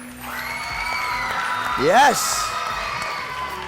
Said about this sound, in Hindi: तालियां बजाइएगा एक बार फिर.